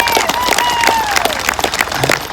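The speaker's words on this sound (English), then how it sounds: "an even bigger round of applause for the last group there" Applause from an audience at an Australia Day citizenship ceremony in Dubbo, greeting the last group of new citizens: a dense, steady wash of many hands clapping, fairly loud and continuous throughout.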